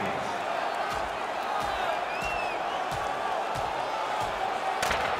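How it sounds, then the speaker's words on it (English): Sustained crowd roar and cheering in an NHL 20 hockey arena after a goal, steady and loud throughout, with faint whistles and sharp impacts, and commentators' voices blended in. "And a crowd on their feet."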